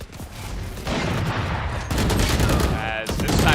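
Continuous rattling automatic gunfire in a tactical shooter video game match at an esports semi-final, loud and dense, with a caster talking over the shots.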